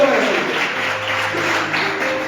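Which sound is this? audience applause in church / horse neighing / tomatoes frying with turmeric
audience applause in church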